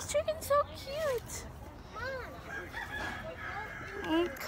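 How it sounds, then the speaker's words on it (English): Chickens at an outdoor pumpkin patch give several short clucks and squawks nearby, mixed with people chatting and a voice in the background. "Oh, this chicken's so cute."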